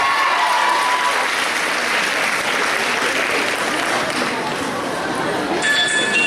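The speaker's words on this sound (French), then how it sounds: "Applaudissez-les bien fort." A crowd at a cosplay contest claps in sustained, loud applause that stays dense and even from start to finish.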